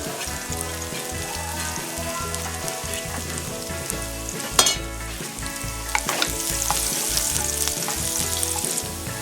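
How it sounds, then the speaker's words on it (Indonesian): Garlic frying in cooking oil in a pan, a loud continuous sizzle with stirring under steady background music, one sharp clatter near the middle, no talking. "Kita akan menumis dulu bawang putih sama bawang bombaynya ya"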